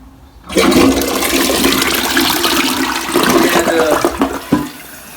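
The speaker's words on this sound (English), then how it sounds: "They should be all around here when we flush this tank." A toilet tank flushes on a bowl with a weak flush and clogged jet holes. A sudden loud rush of water starts after a brief quiet moment and churns steadily close by, ending with a few gurgles and knocks.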